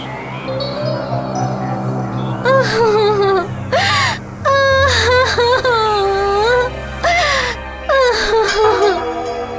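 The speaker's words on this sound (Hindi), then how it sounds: "ये तो किसी औरत की रोने की आवाज है।" A woman cries and wails in a drawn-out, wavering sob, breaking into rising moans and gasping catches of breath, loud and close with brief pauses between outbursts.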